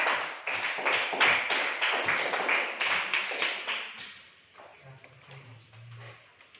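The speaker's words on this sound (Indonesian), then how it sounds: "beri tepuk tangan untuk Najla." Classmates in a classroom applaud a student after her presentation, a dense burst of hand clapping for about four seconds that fades into scattered claps with some voices underneath.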